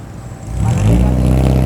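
A car with a 1.3-litre carbureted engine idles and then revs up, its low steady engine drone rising and holding louder near the microphone.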